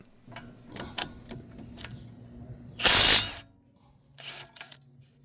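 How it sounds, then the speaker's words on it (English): A 1/2-inch ratchet loosening caliper bracket fasteners on a Honda HR-V during a brake job: scattered clicks and ticks, then a loud burst of metallic noise midway, followed by a few more sharp clatters. "If using hand tools, get some leverage with a 1/2-inch ratchet."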